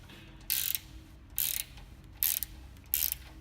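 A ratchet wrench working loose the 15mm wheel nuts on an EVS EMB Mk2 bike, four short bright clicking bursts at steady intervals, close and crisp over a low hum.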